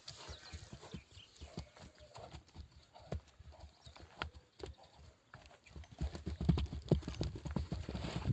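Horse hooves clip-clopping on hard ground at a gallop, a quick uneven rhythm that grows louder and nearer toward the end, with no voices.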